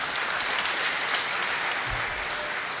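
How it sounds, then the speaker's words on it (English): A hackathon audience gives the team a round of applause, continuous even clapping from a sizable crowd, close and steady for the whole moment. "I think they deserve another round of applause."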